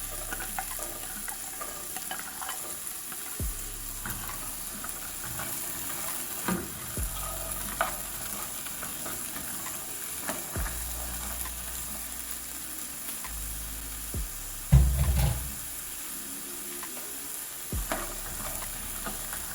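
Peanuts roasting in a pan on the stove, a faint continuous sizzle with intermittent soft scraping and rattling as they are stirred, plus one louder clunk near the end.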